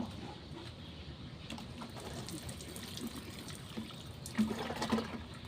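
Water pours onto a potted betel leaf plant, making a steady, soft trickle and splash close by, with a couple of slightly louder spatters near the end.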